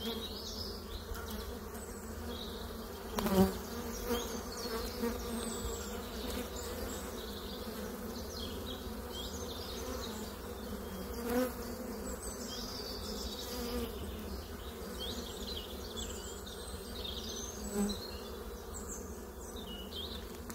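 A honeybee swarm hums steadily around a beehive, a dense, continuous close buzz with occasional louder passes of single bees near the ear.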